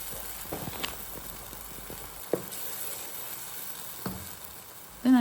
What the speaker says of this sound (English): I will stir again to combine